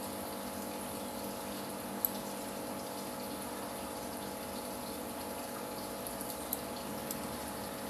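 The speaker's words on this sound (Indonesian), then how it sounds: "Saya akan bikin rendah dulu airnya." Water drains from a fish pond to lower its level, a constant low rush with a steady pump-like hum, fairly faint, with a few tiny clicks and no voices.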